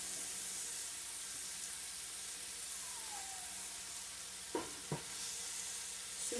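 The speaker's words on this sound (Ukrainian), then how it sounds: "тут морквочку кинути зразу і обжарити її" Carrots frying in a pan, giving a steady, soft sizzle throughout, with two brief sharp clicks near the end, and no voices.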